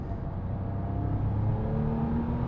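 Porsche 959 with a sequential twin-turbo engine pulls hard under acceleration, a steady loud drone with rising harmonic tones as revs climb, heard from inside the car with no talking.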